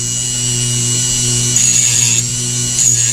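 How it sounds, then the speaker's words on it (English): A Dremel rotary tool runs at a steady high-pitched whine, held close and loud, while it works on a bent lifter arm from a KW1 2-in-1 lock pick, with slight changes in tone as it bites. "So I'm going to turn it on. It'll be a little loud, but you'll get the idea."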